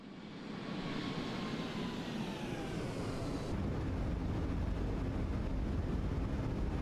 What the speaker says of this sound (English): let's drop the gear because I need to slow this thing down